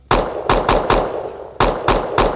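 Seven sharp pistol shots fired from behind a shield in a video game, arriving in two quick bursts of four and three, loud and close, each crack with a short ringing tail.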